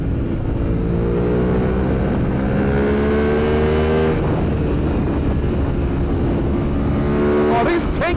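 Aprilia motorcycle engine (RSV4 Factory or RS 660 Factory) revving loud and close while riding on a road, with rising and falling pitch as it shifts, wind noise throughout, and a burst of crackling pops on deceleration near the end.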